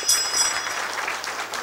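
An audience applauding at a Marathi kirtan, a short burst of dense, continuous clapping at moderate level with no talk over it.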